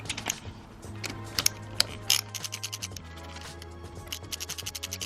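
A T15 Torx driver backs out small screws from the collar of a Ford Focus RS headlamp unit. Close, crisp clicking comes in uneven bursts and then settles into a steady, even ratcheting rhythm toward the end, with no voices.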